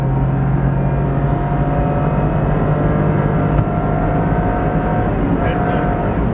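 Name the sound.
1993 Suzuki Every van accelerating at full throttle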